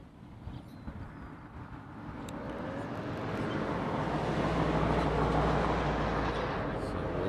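A jet airliner taxis at Honolulu airport, its engine roar swelling from faint to a steady, fairly loud whine and rumble from a moderate distance.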